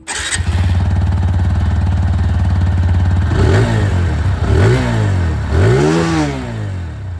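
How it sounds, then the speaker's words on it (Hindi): TVS Apache 160 2V motorcycle engine cranking and catching, idling with a steady close thump, then revved three times through its exhaust, each rise and fall loud and clear, with no talk. "ये था यहाँ पर अपाचे 162B की आवाज़"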